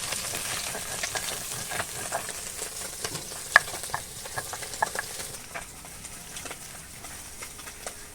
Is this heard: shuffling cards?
no